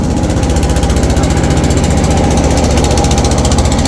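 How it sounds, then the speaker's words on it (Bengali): The diesel engine of a river trawler boat crossing a rough river chugs loudly and steadily at close range, with a fast, even, throbbing rhythm and no talk. "সুতাটা দেখতে পাচ্ছেন এটা দিয়ে ইঞ্জিন কমায় বাড়ায়"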